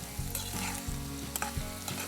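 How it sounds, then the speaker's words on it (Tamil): Beans and cauliflower frying in a pan are stirred, giving a close, steady sizzle broken by repeated scraping strokes of the spoon against the pan, with no voices. "ஒரு நல்ல ஒரு ஸ்டிர் கொடுத்துடலாம்."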